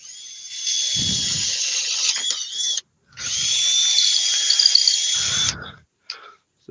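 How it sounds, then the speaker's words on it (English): A drill on a lathe with an index jig bores holes, whining steadily for several seconds, pausing, then running again at a close, loud level with faint mechanical knocks underneath. "So we'll go in and get some holes drilled."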